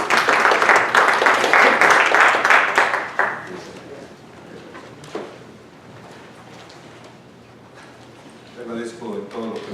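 An audience at a clinical practice lecture applauds a speaker with dense, loud clapping for about three seconds, which quickly thins out into a quiet room with scattered small noises before a voice begins.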